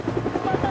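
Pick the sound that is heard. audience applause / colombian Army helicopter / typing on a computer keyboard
colombian Army helicopter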